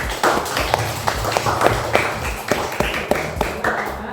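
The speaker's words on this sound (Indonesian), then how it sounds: "Tepuk tangan untuk kelompok 2." A classroom of students claps for a student group, with close, loud, uneven individual claps in a ragged rhythm that carry on for a few seconds with no talk over them.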